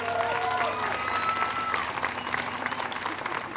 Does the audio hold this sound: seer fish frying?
no